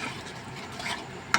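Manchurian mixture with added powder being stirred and mixed in a bowl by hand, a soft continuous wet churning texture with a brief sharp clink near the end.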